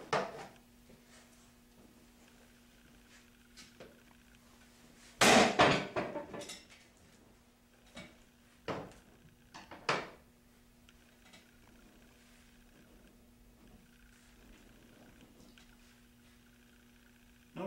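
A pivoting roll-style rural mailbox protector is knocked so the box swings, with a loud clattering knock followed by a few lighter thumps and rattles as it rocks back into its original position, against a steady low hum.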